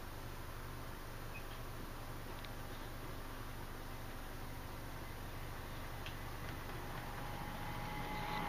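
A diesel locomotive hauls a lighter train at an autumn diesel gala, a steady broad rumble with faint clicking of wheels over rail joints, continuous and moderately distant throughout.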